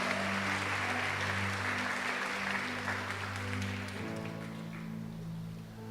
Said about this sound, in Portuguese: Pode aplaudir ao Senhor que manda chuva.